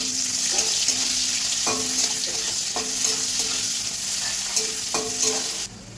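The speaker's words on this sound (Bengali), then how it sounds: "পেঁয়াজ কুচানোটা আমি এবার দিয়ে দিলাম।" Chopped onion fries in a hot wok with whole garam masala and bay leaves, a loud, steady sizzle under repeated rhythmic scraping strokes of a spatula stirring against the pan.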